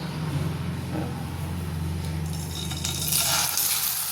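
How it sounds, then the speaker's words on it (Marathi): Chicken pieces frying in hot oil with masala in a Marathi home kitchen, a steady moderate sizzle over a low background hum, with brief clinks and brighter spattering near the end. "तेल सुटेपर्यंत याला परतून घेते"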